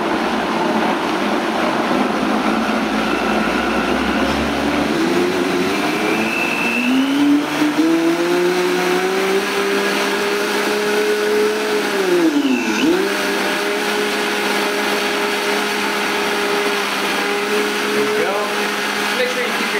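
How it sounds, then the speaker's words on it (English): A Vitamix blender runs loudly and continuously on high, its motor pitch rising as it spins up, dipping briefly midway, then whirring on at high speed. "This is a Vitamix blender."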